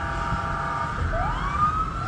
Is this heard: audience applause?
no